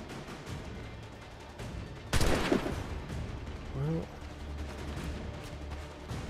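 Musket fire in Assassin's Creed 3, a single loud sharp crack followed by a rolling echo, set against steady game ambience with a voice speaking nearby.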